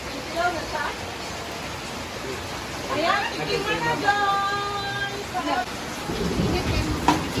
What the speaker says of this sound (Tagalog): inabot na nga na malakas na ulan